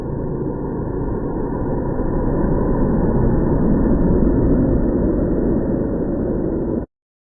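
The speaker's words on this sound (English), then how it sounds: "That's a fire truck there." A fire truck's engine idles nearby on a street, a steady low rumbling drone that holds evenly for about seven seconds before cutting off abruptly.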